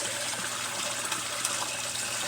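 Water from a backyard pond circulating inside a greenhouse makes a steady, even rush and trickle with a faint splashing texture, constant throughout and moderately close, with no talking.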